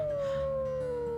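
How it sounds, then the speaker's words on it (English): A wolf pack howls in the video game WolfQuest, one long, sustained, slowly falling tonal howl that is close and prominent over a layered game ambience. "Hold on, the pack is howling at us."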